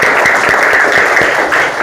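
A classroom of students applauds a pupil during a teaching practice lesson, with steady, loud, continuous clapping that holds for the full stretch and eases slightly near the end.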